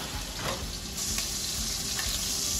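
Honey lavender chicken sizzles steadily in a hot pan, a dense continuous frying hiss with a few soft crackles, close and alone without voices.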